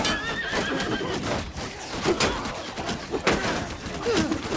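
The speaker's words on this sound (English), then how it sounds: "Oh, there goes our horse." A horse whinnies and gallops amid a loud, dense battle din in Mount & Blade II: Bannerlord, with the neighs rising clearly above constant clatter and crashing noise.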